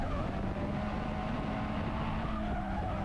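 A drift car flicks into drift initiation during a competition run, its engine roaring loud and steady with tire squeal and skidding throughout.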